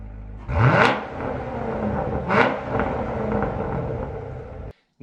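C7 Corvette V8 with the stock exhaust, revved twice in quick blips that rise and fall over a rumbling idle, close and loud, ending with a brief cut.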